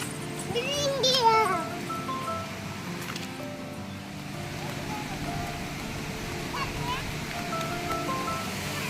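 Kodbi waterfall running full in the monsoon: a steady, broad rushing roar of falling water throughout, with a voice briefly heard near the start.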